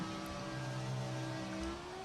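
Race cars in the F1 2003 video game at the Australian GP streak past, their engine notes holding a steady high drone that shifts slightly in pitch over two seconds, fairly loud and continuous with no talk.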